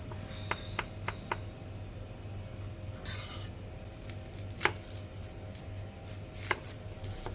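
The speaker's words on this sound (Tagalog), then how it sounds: "Dadari lang natin ang bawang at sibuyas" A knife chops garlic and onion on a board in sparse, irregular knocks, a few sharper thuds and a short scraping rub between them, over a low background hum.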